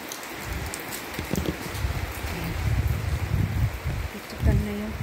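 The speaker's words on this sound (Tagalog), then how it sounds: "nakapayong ako kasi maulan." Rain pattering on an open umbrella on a dim late afternoon, a dense steady patter close overhead with a brief voice near the end.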